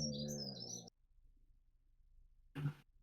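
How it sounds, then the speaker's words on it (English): Outdoor birdsong: a short burst of bright, high chirping tweets over a low murmur for under a second, then near silence, then a brief throaty cough-like sound near the end. "Was that bird song that I just heard then?"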